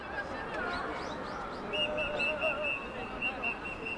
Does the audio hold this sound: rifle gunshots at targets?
no